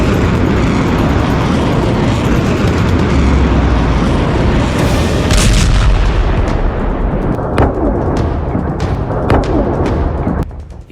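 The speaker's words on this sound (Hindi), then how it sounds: "देखिए, बहरीन में ईरान ने तेल डिपो को कैसे धमाकों से आग का दरिया बना दिया।" Powerful explosions at an oil depot in Bahrain, a continuous loud roaring rumble of blasts and fire that swells, with a burst around the middle and scattered sharp cracks and pops toward the end as it fades.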